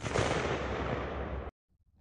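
A 5.56 rifle fires at a military helmet, one loud, sharp blast with a long rumbling tail that cuts off abruptly into near silence.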